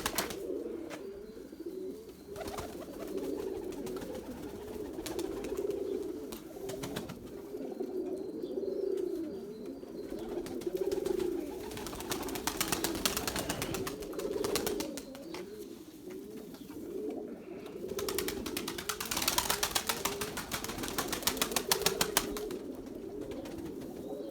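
Purebred Erzurum white breeding pigeons coo continuously in overlapping low rolling calls, close and steady, with occasional rustling and bursts of wing flutter, and no voices.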